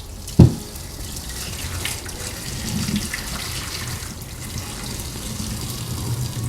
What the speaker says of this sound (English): Then just pour the water out.